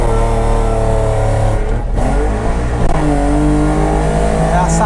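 A Puma GT with a two-stroke engine revs hard and close, its buzzing, raspy note climbing and easing with throttle, while someone talks over it.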